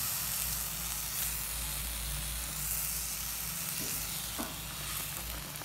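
Eggplant pieces frying in a pan with yogurt, a loud steady sizzle and hiss running throughout, with a couple of brief soft stirring clicks near the end.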